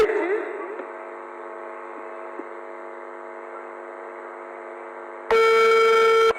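A mobile phone call tone while dialing a number sounds as one loud, steady electronic burst of about a second near the end, following a long stretch of low hum.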